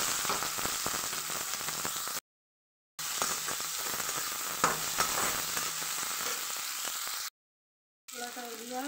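Chopped onion and green chillies fry in hot oil in a pan for a home-style gobhi matar sabji, giving a steady, close sizzle with short cuts in the sound.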